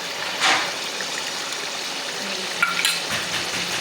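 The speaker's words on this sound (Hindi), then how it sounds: "तो अब हम आधा मिनट तक और भूनते हैं।" Gravy for mash daal sautés in a pan with a steady, close sizzle throughout, broken by a couple of brief stirring scrapes and clinks.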